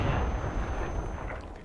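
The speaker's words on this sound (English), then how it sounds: "Throwing grenade! Oh, it's a flash." Flashbang grenade detonating in the game Warzone, a loud, blasting burst that fades over a second or so, with a thin high ringing tone lingering above.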